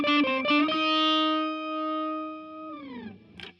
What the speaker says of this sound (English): And on the neck pickup, it sounds like this.